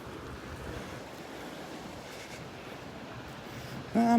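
Surf washing steadily onto the sand at Delnor-Wiggins beach on a morning walk, a continuous broad wash with some wind rumble on the microphone, rising slightly louder at the very end.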